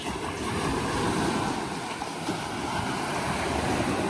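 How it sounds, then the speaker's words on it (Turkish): Rough Aegean surf rushes and breaks along the shore at Polychrono, Halkidiki, Greece, in a steady roar, mixed with wind buffeting the microphone, with no voices. "Dün çok sakindi deniz ama bugün baya baya dalgalı."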